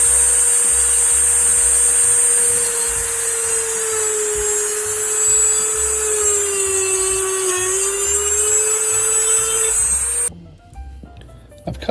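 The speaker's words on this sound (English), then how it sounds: "this all starts, first of all, with drilling a hole for a leather thong to go through" A hole is drilled through the wooden shaft of a handmade drum beater to take a leather thong, giving a steady, close, high-pitched whine that holds for about ten seconds before stopping abruptly, leaving brief small handling clicks.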